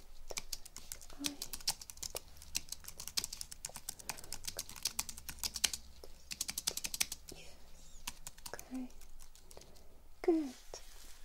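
Tapping on a computer keyboard in a quiet room, a steady run of light clicks with short pauses, up close and soft.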